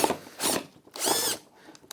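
Power drill boring a hole into hard green MDF board while making a garden trellis, with two loud grinding bursts separated by a short pause and a faint click at the end.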